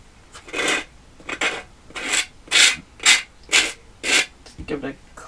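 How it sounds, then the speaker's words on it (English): Sandpaper rubbed along the edges of a wooden craft piece for patriotic 4th of July hanging decor: about eight short rhythmic scraping strokes, close and clear, with a voice speaking briefly. "we're just going to take the sandpaper and take off the edges"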